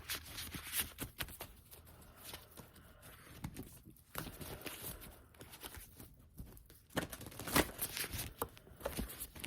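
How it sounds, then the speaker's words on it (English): A brand-new deck of playing cards is shuffled by hand, giving close, quiet bursts of riffling and flicking that come in uneven rhythmic waves. "I like to shuffle my new decks a lot before I use them."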